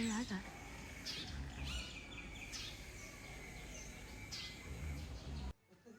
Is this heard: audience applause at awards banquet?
no